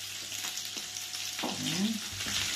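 Garlic fries in a pan alongside beef for a Filipino beef with garbanzos dish, a continuous sizzle with light stirring scrapes and a short clatter partway through.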